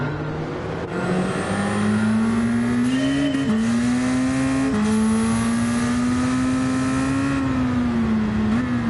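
A Ford Sierra Cosworth in Gran Turismo 7 holds a loud, steady engine drone with a rising pitch, broken by brief dips at gear changes. No one speaks over it.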